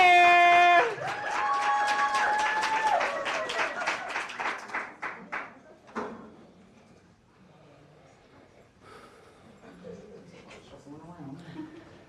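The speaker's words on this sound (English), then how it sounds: "Clap it up for poet number 1, which is Rigsby St. Clair." Audience at a poetry slam claps and cheers, a burst that swells after a short vocal sound and fades over several seconds into scattered murmurs.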